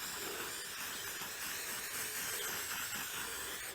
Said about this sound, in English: I've just got some spray similar to WD-40 type spray.